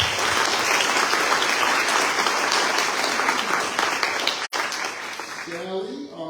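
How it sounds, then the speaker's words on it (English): A room full of people at an awards event for a magazine's class of 30 and under breaks into a loud, dense round of applause that fades out after several seconds as a voice begins speaking. "I want to make sure we give a round of applause to the Jackson Magazine team"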